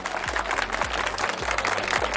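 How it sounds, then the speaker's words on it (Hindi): Crowd applause for police department officers at a public event in Theog, a dense, continuous patter of many hands clapping through the whole stretch, with a low rhythmic music beat thumping underneath. "उनके लिए एक बार जोरदार तालियां हो जाए, कम ऑन"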